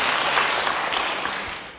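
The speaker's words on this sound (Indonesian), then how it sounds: "Beri tepuk tangan bagi dia." A church congregation breaks into dense applause at a sermon, a loud burst of many hands clapping that tapers off slightly by the end of the short moment.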